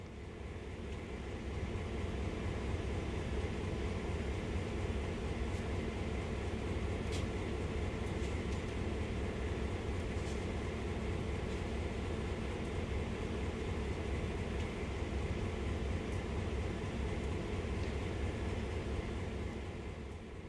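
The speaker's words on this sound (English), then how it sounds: "Known as a GP38-2, it packs an efficient 16-cylinder diesel-electric motor able to" A GP38-2 diesel-electric locomotive with a 16-cylinder, 2,000-horsepower engine idles in Train Sim World, a steady, dense low rumble holding constant throughout with faint high clicks now and then.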